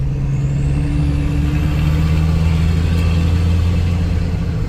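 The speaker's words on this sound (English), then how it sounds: "So you can get some exhaust note sounds and some sights while we're talking about this car." A Jeep JKU with an M57 diesel engine swap drones steadily while driving, a loud low exhaust rumble with a constant hum and no talk.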